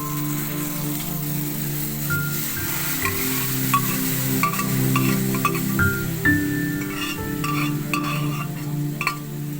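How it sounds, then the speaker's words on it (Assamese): Boiled arhar dal poured into a hot pan, a steady frying hiss with stirring scrapes and a few bright clinks, moderately loud and close, no voices. "এতিয়া দালিখিনি মই দি দিম।"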